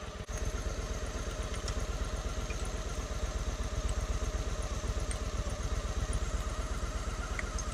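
A Honda Shadow motorcycle engine idles during a carburetor sync, a steady, close, rapid lumpy throb with mechanical clatter holding even throughout.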